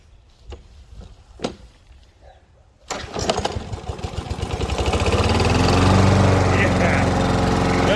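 A few faint clicks, then a Ryobi 40-volt battery lawn mower motor whirs to life and steadily rises into a loud, sustained hum, running close by with no talking.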